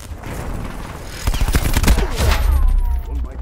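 Micro MG machine gun fire in the video game Black Ops 4, a rapid rattling burst starting about a third of the way in and continuing with heavy low thumps, loud and up close in the game mix.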